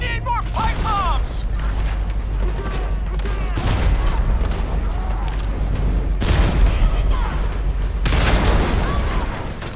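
Pipe bomb blasts and gunfire in the Homefront game, a dense, loud barrage of explosions, shots and mechanical clatter that runs without a break, with voices and radio chatter mixed into the action.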